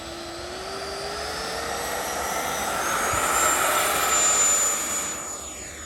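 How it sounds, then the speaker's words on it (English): An FMS Yak 130 radio-controlled jet with a 70mm electric ducted fan takes off, its steady high-pitched whine rising in pitch and growing louder as it accelerates, then easing slightly as it climbs away, with no talking. "We'll go ahead and take this Yak 130 up and then bring it down"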